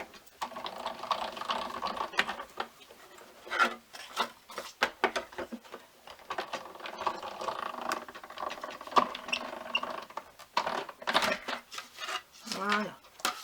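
Material for a Ferrero Rocher table decoration is cut with a series of close, crisp clicks and snips. The sounds come in irregular bursts with faint background noise between them.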